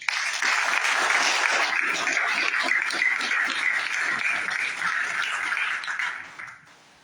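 Audience applause at an all-candidates forum in Courtenay-Alberni, a sustained round of clapping from a room full of people that fades out toward the end.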